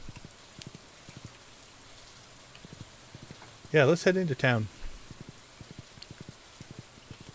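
Rain falls in the farming video game Stardew Valley as a faint steady patter with soft regular ticks, while someone talks briefly in the middle.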